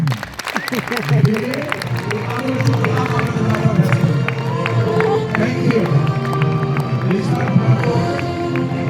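An audience at the Humanity Award 2026 ceremony claps steadily for award representatives, a dense rattle of many hands that carries on throughout with crowd noise and voices underneath.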